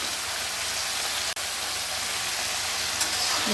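Mushroom curry with tomato, salt and turmeric sautéing in a pan, giving a steady, soft, even sizzle with no talk and one brief dropout.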